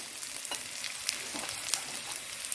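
Red amaranth greens go into a pan of frying onions, giving a steady, close sizzle with a few soft scraping stirs and clicks, and no voices.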